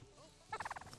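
A pet turkey lets out a quick, close gobble, a rapid burst of about half a dozen rattling pulses after a moment of quiet background.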